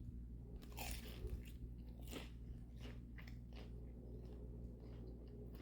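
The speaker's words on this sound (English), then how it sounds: "First, I'm going to take a bite of this gigantic spring roll." Close-up bite into a large crunchy spring roll, with a few sharp crackling crunches followed by softer wet chewing, all near the microphone with no talking.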